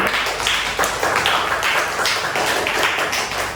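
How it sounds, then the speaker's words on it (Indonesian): A classroom group claps hands together during an Islamic religious education lesson, producing repeated close, sharp bursts in a fairly even rhythm with no talk over them. "Oke, tepuk tangan untuk kita semuanya."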